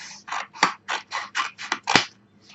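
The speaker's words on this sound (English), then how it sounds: "grab your scissors. We're going to cut" Scissors snip through paper for a handmade sample book, about nine crisp, evenly spaced cuts in quick rhythm, close and clear with a quiet pause after.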